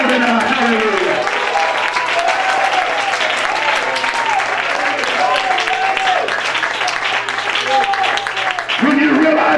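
A church congregation at a convocation service claps loudly and continuously, a dense wash of hands over a sustained low musical drone, with a preacher's voice and shouts from the crowd rising over it throughout.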